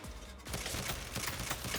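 Pistol fire in the Saints Row (2022) video game: a dense, loud, continuous volley of rapid shots that runs through without pause.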